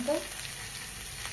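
Onion, eggplant and potato frying together in a pan give a soft, steady sizzle, brief and fairly quiet, with a faint clink near the start.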